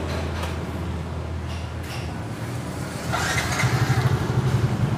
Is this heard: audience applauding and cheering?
no